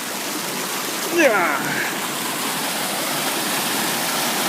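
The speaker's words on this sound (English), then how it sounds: "This water's pretty clear." Clear mountain stream flowing steadily, a constant close wash of water noise throughout, with a brief bird-like chirp early on and a short spoken word.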